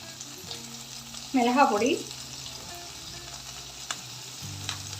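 Paneer fries in butter in a pan for a veg sandwich recipe, giving a soft, steady sizzle close by. A voice briefly talks over it before the frying continues alone.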